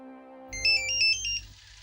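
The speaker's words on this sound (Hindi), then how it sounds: "फोन उठाओ। Pick up the phone." A phone ringtone plays an electronic melody of bright, repeating tones over a low hum, loud and close, continuing steadily without any talk.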